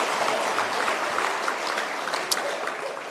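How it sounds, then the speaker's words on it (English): A crowd claps in a dense, steady patter of applause that gradually tapers off slightly toward the end. "Let's give him a big round of applause."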